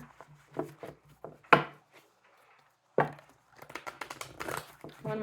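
Several crisp bursts of tarot cards being shuffled and tapped together, separated by short pauses, close and fairly quiet.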